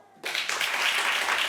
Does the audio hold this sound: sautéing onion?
no